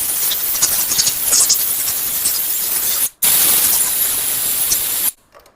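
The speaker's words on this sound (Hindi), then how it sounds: "उसके बाद में एयर गन की मदद से इस पर एयर का छिड़काव करेंगे।" Compressed air from an air gun hisses steadily onto a motorcycle throttle body on an Avenger 160 BS6, a continuous close blast that cuts off briefly near three seconds, resumes, then stops just before the end.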